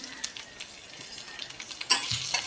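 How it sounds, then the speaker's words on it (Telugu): Ingredients with a red chilli frying in a pan for raw mango jaggery curry, a steady quiet sizzle with occasional stirring scrapes and small crackles, no voices. "కొంచెం ఫ్రై అవ్వాలి ఇవి"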